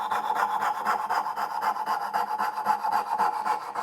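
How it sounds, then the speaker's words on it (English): A hand saw cuts wood for dovetail joints in steady, rhythmic back-and-forth strokes, close and fairly loud, with no voices. "you'll be able to hear the noise change when the wood's getting a bit weaker and more fragile"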